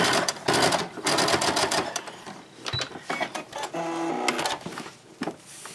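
A sewing machine stitches fabric close to the teeth of a zipper on a diaper-changing bag, running in loud, rapid bursts separated by short pauses.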